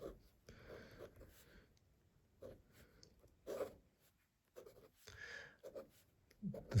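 An Opus88 fountain pen with a flex nib scratches across paper in short, faint strokes separated by brief gaps, close up and quiet with no talking.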